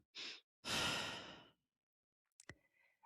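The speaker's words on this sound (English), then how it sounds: "This pause may literally just be a breath." A slow, deep breath heard alone in a quiet space: a short inhale followed by a longer, breathy exhale, then a soft lip or mouth click and faint rustle.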